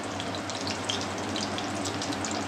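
Hot oil with a pinch of salt crackles in a pan before mustard seeds go in for lemon rice, a close, steady sizzle with no one talking.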